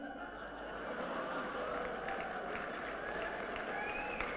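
Audience applause from a seated crowd at a network-marketing talk, a steady, dense wash of clapping that holds evenly at moderate loudness throughout, with no voices rising above it.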